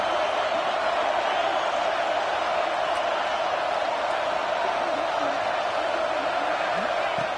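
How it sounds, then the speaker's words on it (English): Football stadium crowd roaring steadily during a red zone defensive stand, a dense continuous wash of distant cheering and noise that holds at an even, loud level throughout. "This crowd is trying to inspire this defense to make a big red zone stop."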